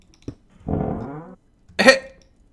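A carriage door placed in a modded Minecraft 1.7.10 world makes a crude fart-like sound: a short blurt, then a longer rasping burst, then a sharper squeaky blast, all fairly close and with no talk.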